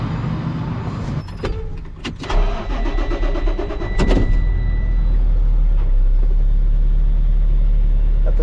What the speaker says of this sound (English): So I'm gonna start my truck up, get that thing warming up